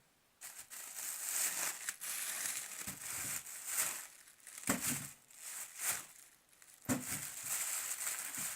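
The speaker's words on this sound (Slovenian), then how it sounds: "skoraj prepričana sem, da ste vsi prepoznali pač zaradi zvoka, da je to vrečka" A bag with something inside is crinkled and crushed in repeated bursts of crackling rustle, close and fairly loud, with short pauses between handlings.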